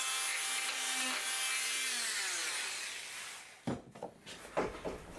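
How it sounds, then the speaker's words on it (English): A saw fitted with a short blade rasps steadily inside a wooden divisible mast for a Hobby Kat catamaran, a continuous close scraping that stops and gives way to a few knocks and handling sounds. "I need to change to a shorter blade for cutting the inside, before I can chisel out the piece."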